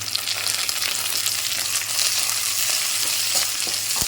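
Chopped chilli, onion, ginger and garlic sizzle loudly in hot oil for mutton curry, a continuous close crackling hiss with occasional stirring scrapes and no talk.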